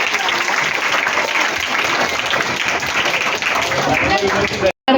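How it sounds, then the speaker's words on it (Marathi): A crowd at a study hall in Thane applauds to welcome a Marathi film-industry singer, with dense, steady clapping filling nearly the whole stretch before cutting off abruptly near the end. "आपण त्यांचं टाळ्या वाजून सगळ्यांनी स्वागत करायचं आहे"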